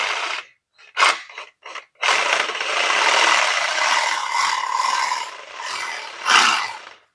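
A rasp files rubber generator legs up close in loud, gritty scraping strokes. A few short separate swipes are followed by a long continuous scrub, ending in one harder final pass, with no talking.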